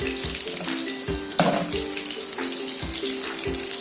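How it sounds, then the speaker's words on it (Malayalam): Oil sizzles steadily in a pan after fish has been fried in it, ahead of cooking masala for a Kerala-style fish biryani. The close, continuous crackle is broken by a brief louder spatter and a low rhythmic knocking underneath. "ഇതൊന്ന് ഫ്രൈ ആവട്ടെ"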